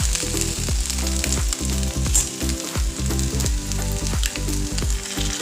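Egg frying with okra (bhindi) in a pan, a steady close sizzle with repeated spatula scrapes and stirring knocks throughout, no voices.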